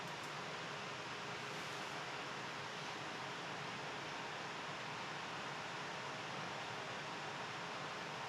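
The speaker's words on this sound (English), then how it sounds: "I'm playing pink noise from Dolby" Dolby-branded pink noise test signal plays steadily for the whole stretch, a dense, even hiss filling the room at a constant level with no talk.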